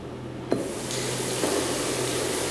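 Water runs steadily from a children's shower at a campsite, a continuous hissing spray that starts abruptly and holds at moderate level, with a faint hum beneath and no voices.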